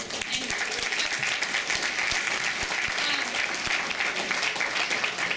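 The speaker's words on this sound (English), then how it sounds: "please, a round of applause for everybody here" A room full of people clapping steadily, dense and sustained applause with a few sharper individual claps standing out.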